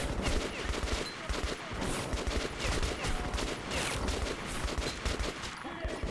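Dense, sustained gunfire in the shooter game Metro 2033 Redux, rapid overlapping automatic bursts and shots filling the scene, with brief quiet speech underneath.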